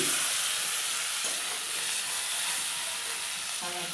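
Potatoes frying in leftover hilsa fish oil in a pan, a steady close sizzle and hiss with faint stirring scrapes throughout, no talk.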